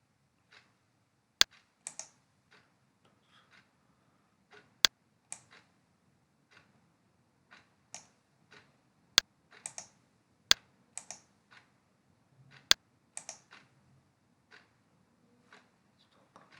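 Sparse keystrokes on a computer keyboard, entered one at a time in short clusters with gaps between them, quiet and close, with a few sharper clicks standing out and no speech.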